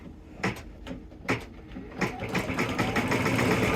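Embroidery machine stitching out three small eyelets on a double-hooped pillow project in a small 5x7 hoop, giving a few sharp mechanical taps followed by a quick steady rattling run, close and fairly quiet.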